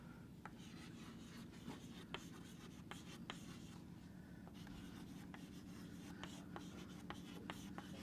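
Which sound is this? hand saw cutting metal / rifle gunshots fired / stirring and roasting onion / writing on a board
writing on a board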